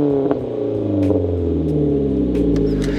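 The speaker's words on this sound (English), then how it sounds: "The corkscrew cat-back exhaust make good noise." A Mazda 3 with a corkscrew cat-back exhaust is revved, and its loud raspy drone rises in pitch across the clip. A few light clicks and clatters sit over the steady engine note.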